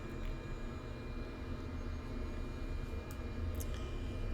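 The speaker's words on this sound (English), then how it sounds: "and go ahead and start the plane" Cessna 208B Grand Caravan turboprop engine spinning up during start in Microsoft Flight Simulator 2024, a steady broadband rumble and whine that holds constant for the whole stretch, close and alone with no talking.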